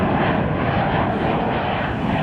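An Embraer E-Jet airliner takes off at Chicago O'Hare, its engines producing a steady, broad, loud roar that holds constant throughout without any talking.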